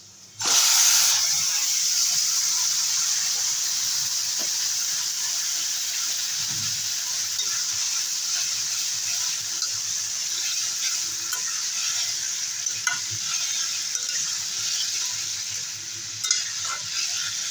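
Taro stolons go into a hot pan with onion and garlic, bursting into a loud hissing sizzle that then settles into a long, steady fry with occasional faint stirring knocks.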